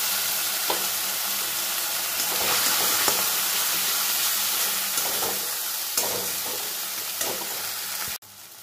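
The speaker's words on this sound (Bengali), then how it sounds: "দেখুন, মশলাটা আমার কষানো হয়ে গেছে, তেল ছাড়তে শুরু করেছে।" Spices fry in oil for a rui fish curry while being stirred, giving a continuous close sizzle with repeated scraping strokes. A sharp clack near the end is followed by a quieter tail.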